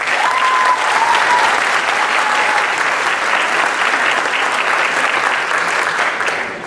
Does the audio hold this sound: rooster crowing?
no